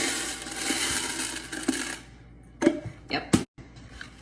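Popcorn kernels are poured into a measuring cup as a dense hard rattle that thins out. A few sharp clinks of stray kernels follow, close and clear.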